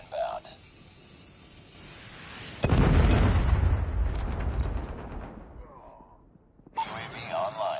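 Missile strike in Call of Duty Mobile on the Scrapyard map: one heavy, close boom that rumbles and slowly fades over several seconds, with brief game voice cues before and after.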